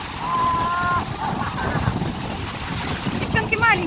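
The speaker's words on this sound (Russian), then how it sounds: "Такие волны сегодня." Sea waves breaking at a windy beach in Burgas, a steady rushing surf mixed with strong wind buffeting the microphone, with voices heard faintly over it.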